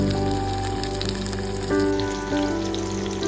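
Onion and tomato sauté in a pan for fish curry, giving a steady close sizzle with small crackles, swelling slightly partway through and running alone without talk.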